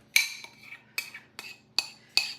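Metal utensils clink against a bowl while lump crab meat is stirred with sauce mix, five bright separate taps spaced about half a second apart, close and fairly quiet.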